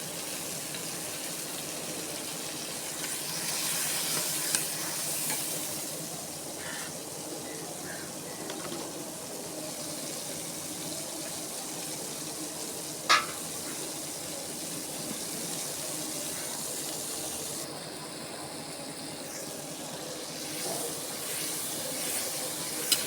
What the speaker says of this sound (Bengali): ভালোভাবে পেঁয়াজ ভেজে নেব। মশলার পেস্টটা দিয়ে দিলাম।